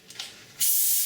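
Homemade elderflower champagne from last year's batch, kept for a full year, gives a soft hissing fizz that swells suddenly and holds steady, faint and close, with no talking.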